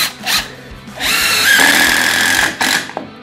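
A Makita impact driver drives a screw, a close, loud whirring spin that breaks into a harsh rattling hammer for about a second and a half, then stops, with brief bursts of motor before and after.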